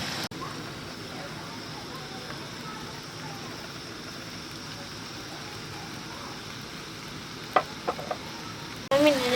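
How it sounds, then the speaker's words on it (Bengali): Poppy seed paste being stirred into boiled bottle gourd in a frying pan, giving a steady close sizzle with soft scraping, a few louder knocks near the end. "এবার আমি দিয়ে দেবো পোস্ত বাটা।"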